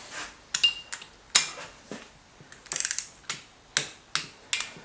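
Socket wrench ratcheting on motorcycle bolts on a 650 Yamaha-BSA scrambler build, a series of sharp metallic clicking bursts at irregular intervals, close up, with no talk.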